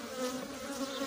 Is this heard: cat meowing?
no